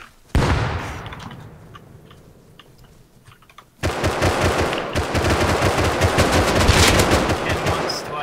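Bursts of automatic gunfire in the survival game Rust, a loud opening volley, a quieter spell with scattered clicks, then sustained rapid fire close up, with players' voices over the shooting.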